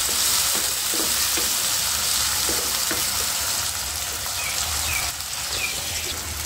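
Onion and tomato masala fries in a pan, a loud, continuous hissing sizzle close up with faint scraping stirs, steady throughout and without talk.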